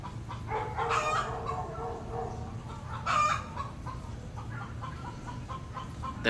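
Chickens on a homestead garden cluck steadily, with a rooster crowing twice in the foreground, near and fairly loud over a constant low background hum.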